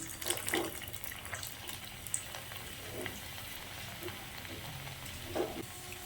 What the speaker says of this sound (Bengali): তেলটা আগের থেকেই গরম হয়ে গেছে, আমি তেলের মধ্যে ছেড়ে দেবো।